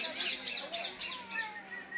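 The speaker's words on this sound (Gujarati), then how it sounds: "બહુ પોપટ છે" Colorful parrots at Sakkarbaug Zoo in Junagadh squawk and chirp in quick bursts, fairly loud and close, with a few higher whistling calls near the end.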